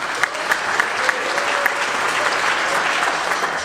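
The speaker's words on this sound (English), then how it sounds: "Another round of applause for our fabulous director" A school band concert audience gives the band director a loud, dense round of applause, close and continuous with sharp individual claps throughout.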